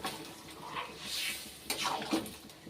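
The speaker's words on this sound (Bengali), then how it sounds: "আমি এবার দিয়ে দিচ্ছি এর মধ্যে একটু গরম জল" Hot water is poured into a pot of Bengali fish head rice, a brief soft splashing and gurgling in a couple of short pours, faint and close.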